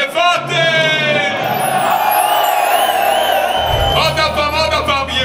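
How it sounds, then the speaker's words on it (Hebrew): A large concert crowd at a Passover seder-preparation show shouts and whoops loudly in unison, a dense roar of many voices with sung tones throughout. "רוצים לשמוע את כל העולם כאן צועק יבטל, יבטל!"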